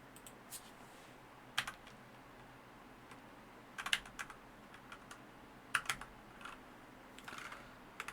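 Keys on a computer keyboard clatter in quiet, scattered bursts of quick taps with short pauses between, close and fairly soft against a low background hum.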